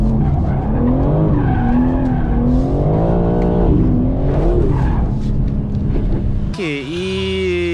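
A BMW M3 Competition G80 engine revs up and down on a wet race track with rising and falling pitch, loud and close, then a sharp change to a higher, brighter whine near the end.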